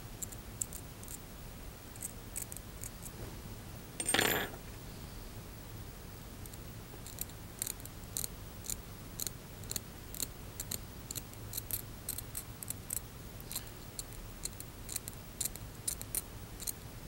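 A dental hand instrument scrapes a tooth root surface during a root planing lab exercise, giving faint, rapid repeated scratching strokes with one louder rasp partway through and no talking.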